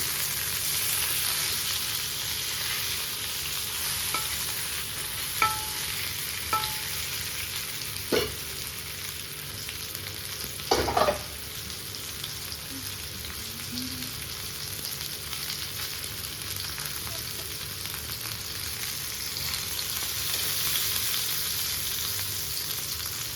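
Masala-coated fish fries in hot oil in a pan, giving a steady, close sizzle that crackles throughout, with a few sharper pops and scrapes partway through and no voices.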